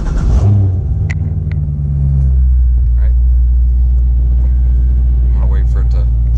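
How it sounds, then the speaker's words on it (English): A C6 Corvette with an automatic transmission cranks and fires up, then settles into a loud, steady, deep idle rumble close by; a person speaks briefly over the engine as it starts. "Start the car."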